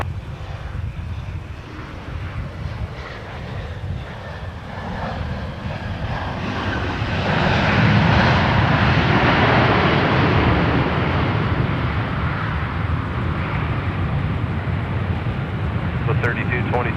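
Southwest Airlines airplane at Minneapolis–St. Paul Airport, a broad jet engine roar swelling from moderate to loud and holding steady, heard at a distance under air traffic control radio talk.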